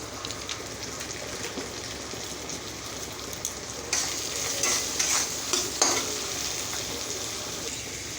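Spiced masala with Kashmiri chilli powder sautéed and stirred in a pan for a vegetarian green jackfruit curry, a steady close sizzle with scraping stirs that grows louder and busier midway, no voices.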